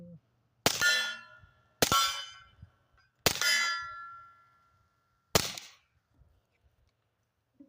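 Four sharp metallic clangs of bullets hitting a steel target ring out at a shooting range with pauses between them, each strike leaving a bright ringing decay; faint distant suppressed pops in between.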